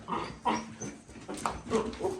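Kangal puppies whimper and whine softly in short, high cries, fairly quiet against a faint background.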